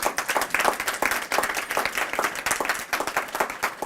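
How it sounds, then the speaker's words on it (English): An audience at a European Union civil defence conference gives a warm round of applause for the Commissioner, a dense, fairly close patter of many hands clapping. "A warm round of applause"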